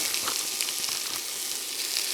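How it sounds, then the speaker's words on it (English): Loud, dense sizzling of ground venison, brisket and pork fatback frying in a hot pan, a steady crackling hiss with small pops throughout. "Listen to that sizzle."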